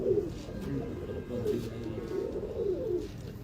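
Pigeons kept by a Lahore pigeon fancier coo in soft, repeated low rolling calls, close and fairly clear, with little else around.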